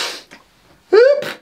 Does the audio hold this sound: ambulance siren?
no